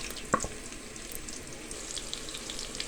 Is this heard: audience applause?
no